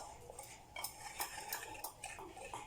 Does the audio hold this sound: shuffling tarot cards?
no